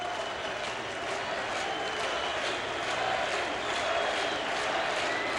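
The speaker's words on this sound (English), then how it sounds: "Crowd taking up a Freddie chant." Baseball crowd at a Rockies at Cubs game in 2001 chanting for a player, a steady dense roar of many voices filling the stadium with rhythmic swells throughout.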